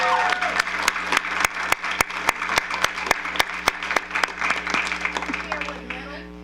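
Applause from a crowd at a school board meeting honoring teachers of the year: steady, sharp claps ring out in an even rhythm for several seconds, then fade toward the end.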